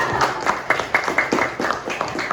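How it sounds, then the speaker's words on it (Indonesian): Classroom audience clapping together during a microteaching lesson on adolescent reproductive health, a short burst of several quick, uneven claps close by with a voice briefly in the background. "tepuk tangan semua"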